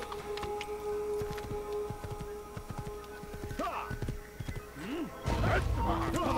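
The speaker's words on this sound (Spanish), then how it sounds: "Quiero subir al caballo." Horse hooves clop in a rhythmic patter inside the video game Assassin's Creed, with a whinny and other game effects layered over it and a louder rumble near the end; someone talks over the action.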